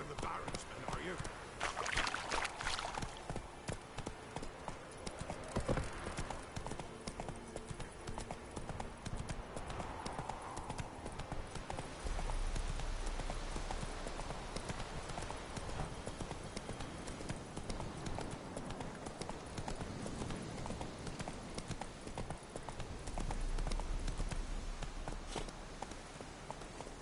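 Horse hooves in the Witcher 3 video game, a continuous rhythmic clip-clop of a mount on the move throughout, with a voice speaking over it at times.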